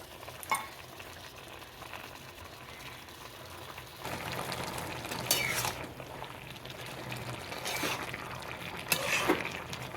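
Stem spinach with pumpkin and papaya cooks in a pan with a little water, giving a steady low sizzle and bubbling. Scraping stirs and clatters break in now and then, growing louder toward the end.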